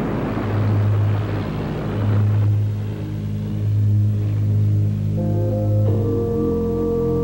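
A loud, low early propeller airplane engine drone that swells and fades in slow pulses, with harmonic tones rising near the end.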